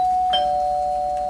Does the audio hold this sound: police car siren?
no